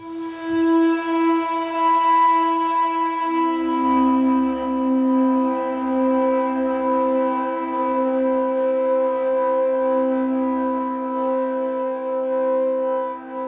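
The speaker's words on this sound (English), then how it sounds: "It's actually both a delay and a reverb that's been put together in an effect chain." A lofi instrument sounds sustained, glassy tones through a very long delay and reverb chain, so each note rings on, stacks and smears into a slow, steady wash that shifts pitch partway through.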